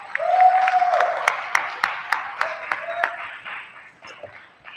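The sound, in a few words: conference audience applause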